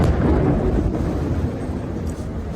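Building explosion from an airstrike in Khan Younis, Gaza: a loud, deep, continuous rumbling roar that fills the whole moment and fades only slightly, with no voices.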